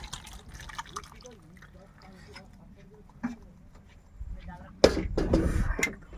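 Oily cooked river prawns slide from a pot into a dish outdoors with a wet, sloshing pour near the end, following soft clinks and handling sounds while a voice talks.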